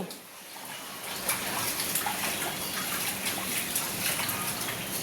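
Water splashing during a young child's water play, a quiet, continuous rushing and gurgling of moving water with small splashes, steady after a brief softer start.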